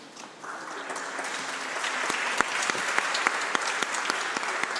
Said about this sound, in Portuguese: As palmas são para a doutora Angeli Rose.